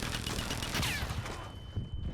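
Dense, rapid bursts of gunfire in ARC Raiders crackle almost nonstop, loud and close, with a sharp whizzing streak of an incoming rocket partway through.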